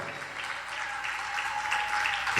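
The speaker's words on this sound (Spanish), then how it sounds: "Dele un aplauso grande al Cristo de la gloria." A church congregation claps loudly and continuously during a Seven Last Words service, a dense, even wash of many hands that swells slightly toward the end, with no speech over it.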